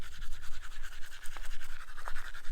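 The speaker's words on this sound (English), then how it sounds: "I'm brushing my teeth" A toothbrush scrubs teeth close up in quick, rhythmic back-and-forth strokes, with a couple of brief louder scrapes, during a desert off-road trip in a Rolls Royce Cullinan.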